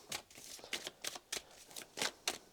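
Tarot cards shuffled and handled close up, a series of quick soft riffling swishes and flicks in an irregular rhythm, faint and alone.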